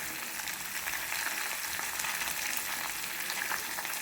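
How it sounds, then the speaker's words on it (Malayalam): Fish sizzling as it fries in coconut oil in a hot pan, a steady dense crackle and hiss held close and fairly loud throughout, with no voices. "അതുപോലെ കുറച്ച് മീനിട്ട് നമുക്ക് പൊരിച്ചെടുക്കാം."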